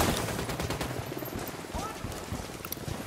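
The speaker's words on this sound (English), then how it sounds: "Opening fire on these fuckers." Gunfire from a firefight in the video game Ghost Recon Wildlands, a dense run of shots at fairly constant loudness throughout, mixed with busy game noise and a voice speaking over it.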